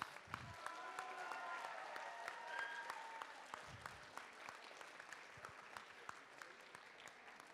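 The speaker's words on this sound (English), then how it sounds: "Give a round of applause to the finalists." A crowd at a FIRST Tech Challenge robotics qualifier applauds steadily, a dense wash of clapping hands that holds for several seconds with a few louder claps popping out.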